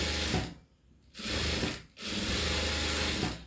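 A sewing machine runs in two steady bursts of rapid mechanical stitching, close and loud, stopping briefly between runs while a half-inch seam is sewn on cloth.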